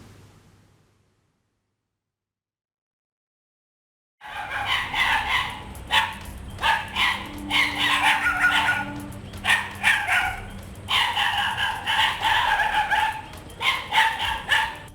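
A pack of stray dogs barking at a house terrace in Varkala, Thiruvananthapuram: after about four seconds of near silence, loud, rapid, overlapping barks and yelps break out and continue in bursts.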